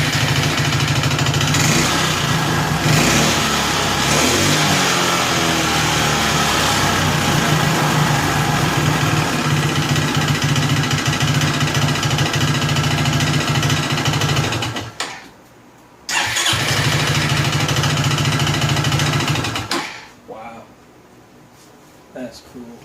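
A 2002 Honda Reflex scooter engine idles loudly and revs up close by, buzzing steadily. It cuts out briefly, starts again, then stops.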